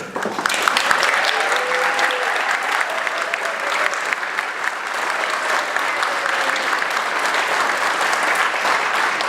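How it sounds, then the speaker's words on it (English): Sustained applause from a large audience at a Rocky Horror Picture Show 40th anniversary celebration, steady and dense throughout, with a faint murmur of voices underneath. "the type of round of applause that they truly deserve"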